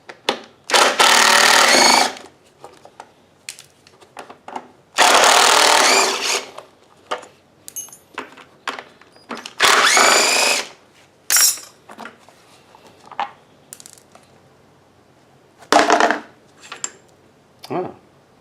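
A cordless drill on a custom gas-powered tricycle project whirs in several loud bursts of one to two seconds, separated by quieter clinks and handling of tools and metal parts.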